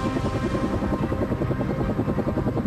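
A helicopter flying over Chernobyl, its rotor chopping in a fast, steady, loud beat heard up close from inside the cabin, with no talking.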